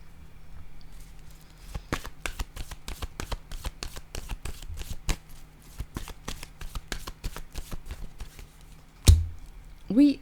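Tarot cards shuffled by hand, a rapid, even run of crisp close riffles and slaps lasting several seconds, ending in a louder thump, with a brief voice at the end.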